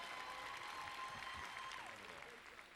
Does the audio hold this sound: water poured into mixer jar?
no